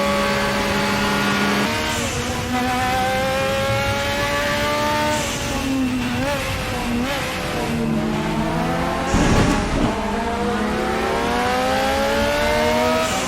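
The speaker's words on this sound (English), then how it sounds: "But I love the sound of this engine." A Group 5 race car engine at Bathurst in the Raceroom video game roars continuously and loudly, with rising and falling revs through gear changes and a brief harsher burst near the end.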